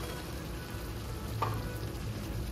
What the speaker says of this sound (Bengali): মটরশুঁটিটা দিয়ে টমেটোর সঙ্গে আর একটু কষিয়ে নেব।